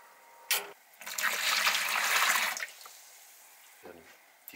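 Two liters of water pour into a Dutch oven while setting up a Brewferm Gallia beer brew, a steady splashing rush lasting a couple of seconds between brief clunks.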